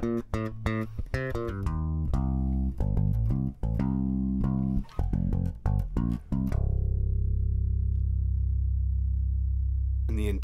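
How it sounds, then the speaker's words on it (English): Squier five-string Jazz Bass plugged straight into an audio interface, playing a run of plucked notes that ends on a long sustained low note ringing out, close and clean with no talk. "This is a Squire 5-string jazz bass."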